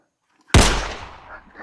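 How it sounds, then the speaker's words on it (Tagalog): A single loud, sharp gunshot cracks out of silence, its boom trailing off, followed by a quick fainter click-like snap. "Pinaputukan ulit tayo."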